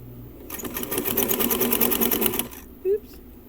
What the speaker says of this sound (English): we have got it on the machine now. And we are going to start sewing it.